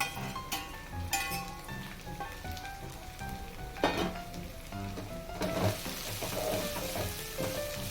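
Onion and garlic sautéing in a pan for Manchurian over medium-low flame, a busy crackling sizzle mixed with repeated spatula scrapes and metallic clinks, growing denser toward the end.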